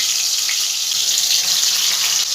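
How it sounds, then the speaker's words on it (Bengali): Pointed gourd (potol) frying in hot oil over a medium gas flame, a steady, dense hiss of sizzling that holds loud and even throughout with no talking. "এবার পটলগুলো সব আমি একে একে ভেজে নেব"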